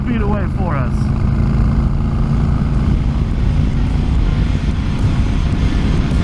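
Honda Fury motorcycle cruising on the road with a throttle lock holding speed, a steady loud engine drone mixed with wind rush, and a brief voice at the start.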